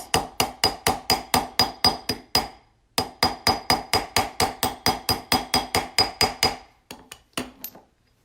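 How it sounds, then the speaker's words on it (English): Nylon-head hammer tapping a metal ring on a block, a fast steady run of about two dozen close, bright taps, a brief pause, another even run, then a few scattered final taps. "You're going to hit that with your nylon head and that's going to straighten it out."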